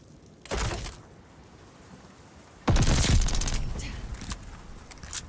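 Rattler gun firing in a video game, heard as a short loud burst near the start, then a longer, heavier volley of rapid shots that trails off with scattered cracks.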